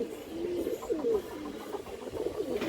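A female Silver pigeon coos in a run of soft, rolling low notes repeated several times, close by, with a faint hiss of background noise.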